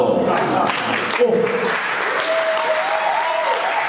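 A church congregation cheers and applauds loudly and steadily throughout, a dense wash of clapping with voices calling out over it.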